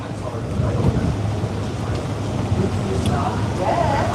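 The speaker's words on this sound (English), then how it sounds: "It's really windy." Strong wind outdoors beside Newtown Boulevard, a broad, constant roar buffeting the microphone throughout at close range, with low rumbling gusts.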